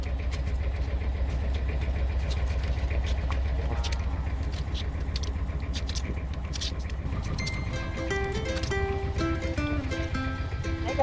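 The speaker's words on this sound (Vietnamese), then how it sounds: "Tại vì khi mà đi ra phía sau cái ghe máy á, nó nổ đùng đùng đùng." The engine of a fishing boat off Phu Quoc runs loudly and steadily at the stern, a constant low throbbing drone, with a tonal musical line rising over it toward the end.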